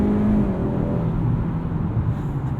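From inside a 2021 Honda Accord Sport 2.0T driving at night comes a steady low engine drone mixed with road and tire rumble, holding constant with slight swells.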